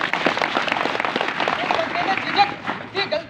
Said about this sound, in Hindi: ताली बजाकर इसका स्वागत